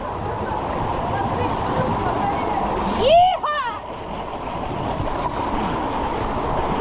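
Rushing river water swirls through small pools in a canyon during snowmelt, a steady, close roar with a brief splashing surge midway; wind buffets the microphone.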